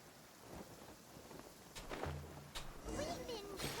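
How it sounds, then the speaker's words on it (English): Heavy rain in Genshin Impact: a soft, steady hiss of falling rain with a few brief bursts and rumbles, fairly faint, with a voice speaking over it near the end. "This heavy rain must be quite an inconvenience for you."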